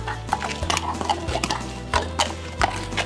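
A horse being led on foot by a farrier, its hooves stepping in a slow, uneven walking rhythm, each footfall a close, distinct knock over a low steady background hum.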